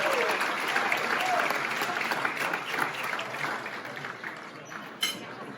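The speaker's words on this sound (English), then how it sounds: "Give him a round of applause." An audience at the Liberty Rally in Branford, Connecticut claps for an arriving speaker in sustained, dense applause that fades slowly toward the end, with a few voices mixed into the crowd.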